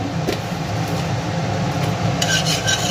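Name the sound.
stirring spices tempering in a pan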